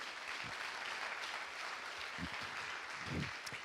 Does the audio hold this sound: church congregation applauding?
yes